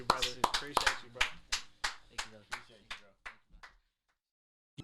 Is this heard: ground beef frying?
no